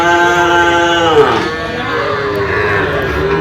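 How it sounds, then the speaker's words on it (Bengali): A Sahiwal cow gives a long, loud moo close by, its low drawn-out call sliding downward, over a murmur of background noise. "আমরা দেখছি সামনে বেশ কিছু গরু সংগ্রহ করছে নূর ভাই"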